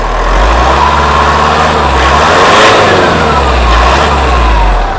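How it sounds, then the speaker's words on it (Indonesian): A Mitsubishi Pajero Sport VGT Exceed 2013/2014 with a DID common rail diesel engine revs loudly and close up, rising and falling twice in smooth sweeps over a steady diesel rumble. "suara khas diesel Mitsubishi DID Common Rail gas gas"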